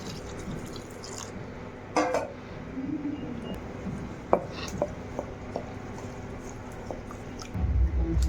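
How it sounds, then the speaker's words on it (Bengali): Malpua batter being stirred with sugar and milk in a bowl, soft scattered clinks and wet mixing taps with occasional louder knocks, ending in a brief burst of scraping. "পরিমাণ মতো চিনি, আর দুধ দিয়ে মিক্স করে নেব।"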